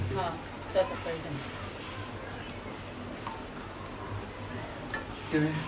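Spice paste sautés and is stirred in a pan for a Bengali home-cooked meal: a steady low sizzle runs throughout, broken by occasional soft clinks and scrapes of a utensil against the pan.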